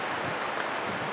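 Wind blowing outdoors on an open hillside with sheep nearby, a brief continuous rushing buffet against the microphone, loud and steady, with no voices.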